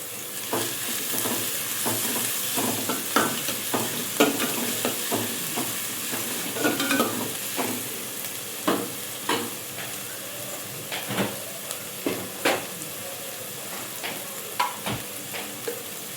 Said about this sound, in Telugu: మనం కొద్దిగా సాల్ట్ వేసుకుంటే ఫ్రై అవుతుందండి